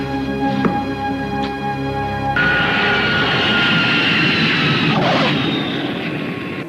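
An airliner arrives at an airport, a loud sustained engine roar with a whine, which shifts and grows broader partway through and holds steady, no speech.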